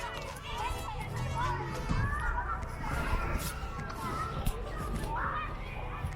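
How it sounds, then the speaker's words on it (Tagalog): Children shout and play noisily during school recess, a dense, steady hubbub of overlapping young voices with scattered shrieks and calls, fairly close and continuous throughout. "Recess na ng mga bata, guys."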